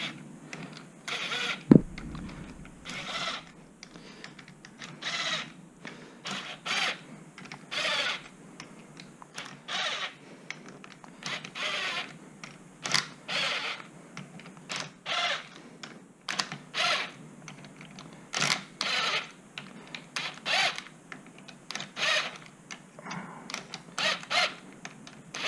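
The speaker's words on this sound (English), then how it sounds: "Then we're going to take our 10mm socket and we'll just wind these in evenly." A 10mm socket ratchet winds bolts in on a Kawasaki H2 supercharger gear cover, giving steady runs of quick clicking strokes with short pauses, close and clear, with no talk.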